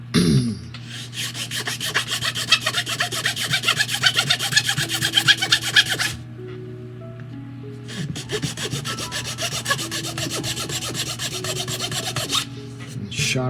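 A small part of a 1:400 scale model of the S.S. Edmund Fitzgerald is filed down to a sharper shape, a close, rapid rhythmic rasping in two runs of quick strokes separated by a short pause.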